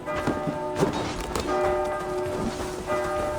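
Enemy ringing an alarm bell during a raid in Assassin's Creed Valhalla: repeated clanging bell strikes with ringing tones, mixed with game noise and thuds, fairly close and prominent.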